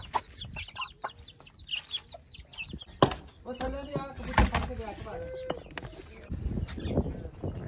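A hen with newly hatched small chicks clucks in short, uneven bursts close by in a village, with faint chick chirps and rustling around her and people talking softly in the background.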